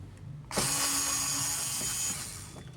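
A motor driver spins screws out anticlockwise on a hand-held device head, a sharp whirring burst starting after a short quiet lead-in and running steadily for about a second and a half before stopping.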